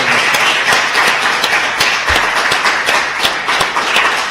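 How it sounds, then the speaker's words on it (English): An audience at a Berlin tech festival applauds, dense rapid clapping from many hands sustained loudly and evenly throughout, close and filling the room with no voices over it. "I think this is really the point to have applause to what this man has achieved."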